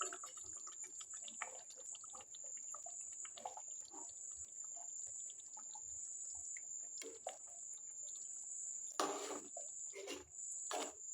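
Water drained off partly cooked biryani rice, heard as faint splashing and trickling with scattered drips and a louder gush of pouring near the end, over a thin steady background tone.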